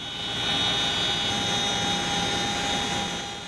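Steady, continuous drone of a Chinook helicopter carrying commandos into a remote area during a military air-land strike exercise, with a sustained engine whine that stays loud and even throughout, no voices.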